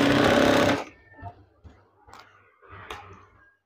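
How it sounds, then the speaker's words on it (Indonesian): A sewing machine stitches curtain fabric: a short loud whirring burst, then several quieter intermittent mechanical clicks and thumps, close by with no talking. "jahit saja."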